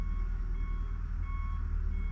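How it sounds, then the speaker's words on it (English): Reversing beeps from a tractor at nearby construction work, a steady repeating tone over a constant low engine rumble, moderately distant and alone without talk. "Pardon the tractor noise in the background."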